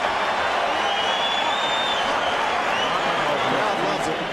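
An arena crowd roars continuously at the Felix Sturm vs Oscar De La Hoya boxing match in 2004, a loud, dense mass of cheering and scattered applause with voices mixed in.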